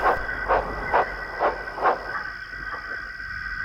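A small steam engine puffs in with a run of even, rhythmic chuffs about every half second, then slows and stops, leaving a steady hiss of steam close by.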